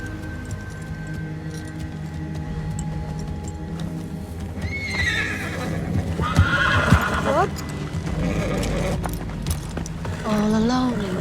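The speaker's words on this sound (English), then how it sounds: "we see Bran riding his horse with his brand new saddle designed by Tyrion" A horse ridden through dark woods in a Game of Thrones scene clip-clops with steady hooves, then whinnies loudly several times over a music score, fairly close and prominent.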